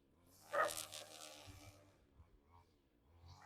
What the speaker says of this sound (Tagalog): nag-aaway yung dalawang aso